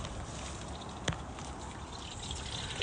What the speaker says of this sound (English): I'm going to go snag some ducks and show you what it looks like when they're bathing.